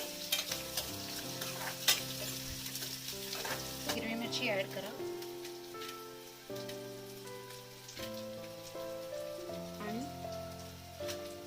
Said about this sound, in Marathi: कांदा चांगला लाल परतून घ्यायचा आहे